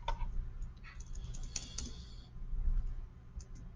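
Keys click and tap on a computer keyboard in a quiet room, a few scattered bursts of typing with short pauses, moderately close and alone with no voices.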